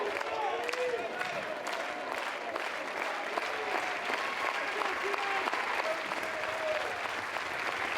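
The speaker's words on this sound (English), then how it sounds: "This is the most energized we've heard this North Carolina fan base over the last couple of innings. They finally have some things to cheer about." A North Carolina baseball crowd at an NCAA super regional game keeps up steady applause and cheering the whole time, a dense wash of clapping and shouts with a few whistles cutting through.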